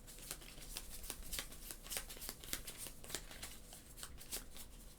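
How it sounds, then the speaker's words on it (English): Playing cards for a solo tabletop game are shuffled by hand, a soft continuous run of riffling flicks and slides, close and quiet with no talk. "So we're gonna take these and shuffle them up."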